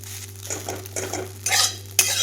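Finely ground corn roasting in ghee, stirred with a utensil in a pan: repeated scraping strokes and clinks over a soft sizzle and a low steady hum, close and distinct, with no talking.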